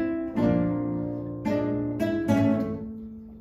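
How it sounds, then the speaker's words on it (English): Guitars playing chords in a music class, four strummed chords ringing out with sustained harmonic tones, each decaying before the next strike, fairly loud and clear with no talk. "With some chords, it's gonna sound like this"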